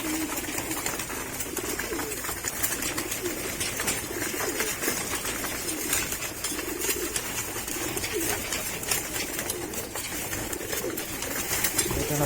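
Taiwan pigeons cooing steadily in a loft, a continuous layer of soft throaty coos and bird murmuring with no break, fairly close and even in level throughout.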